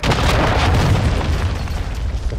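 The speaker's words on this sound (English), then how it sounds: "Hostile cruise missile incoming." A cruise missile detonates in a video game, a loud, sustained rumbling blast that rolls on for a couple of seconds before slowly easing off.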